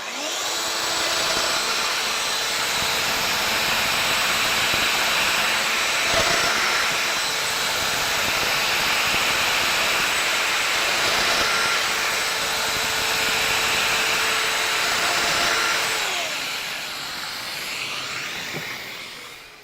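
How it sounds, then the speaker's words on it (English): A Festool Domino joiner cuts mortises in solid wood, a loud continuous whining motor roar that holds steady for about sixteen seconds before winding down and cutting off. "now I'm going to run along and do these other 4 holes or mortises"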